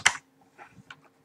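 A password is typed on a computer keyboard in a few short, close taps, one sharp keystroke followed by softer scattered clicks in a quiet room.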